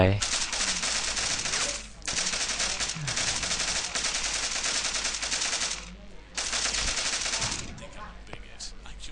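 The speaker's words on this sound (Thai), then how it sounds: "ปืนมันลั่นวะขอโทษ" Rapid automatic gunfire in the video game Postal 2, long continuous bursts split by brief pauses, loud and close.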